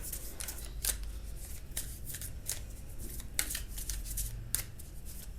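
Tarot cards shuffled by hand, a steady run of soft riffling flutters with a few sharper snaps at irregular intervals, close and fairly quiet with no talking.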